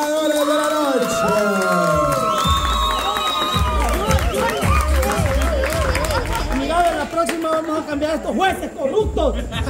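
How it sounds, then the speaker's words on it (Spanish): A crowd cheers, whoops and shouts for the winners of a parody contest, in a loud, continuous wave of voices and excited calls over about ten seconds. "un fuerte aplauso para todos los ganadores de la noche"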